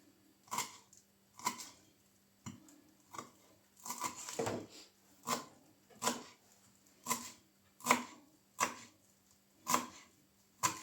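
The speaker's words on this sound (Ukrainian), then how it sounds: "І нарізаємо дуже так дрібосенько." A knife finely chopping fresh garden herbs for a beet salad, parsley or dill, on a board: about a dozen sharp, close chops in a steady, unhurried rhythm with brief quiet gaps between.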